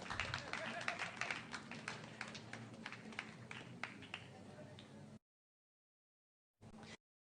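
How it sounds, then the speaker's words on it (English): An audience at an excellence day ceremony honoring UGC-NET achievers applauds with steady crowd clapping, which cuts off abruptly, leaves a silent gap, then returns briefly. "So big round of applause for Kalyani ma'am."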